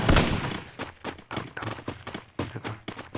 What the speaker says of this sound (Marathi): हे बघा आपली पाठीमागून गोळ्या आणते.